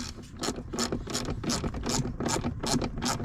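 Rapid clicking of a ratchet turning a T50 socket on a seat belt bolt in a 2015 Ford Flex, a steady run of close, crisp pawl clicks repeating about every third of a second.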